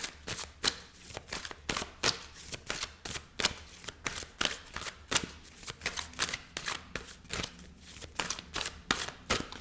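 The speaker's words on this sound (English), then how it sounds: "Okay, I'm terrible at shuffling." Tarot cards being shuffled in quick repeated riffles, crisp rapid flutters one after another, close and alone with no voices.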